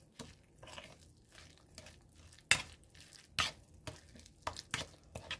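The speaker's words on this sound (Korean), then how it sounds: "물이 생기지 않게 볶는 오징어 볶음입니다." Squid being stir-fried dry in a pan with sesame oil and soy sauce, heard as scattered scraping and clinking of a utensil against the pan, with a few sharper knocks, close and without talk.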